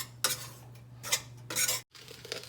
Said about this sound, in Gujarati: તો ચણાનો લોટ શેકાઈ રહ્યો છે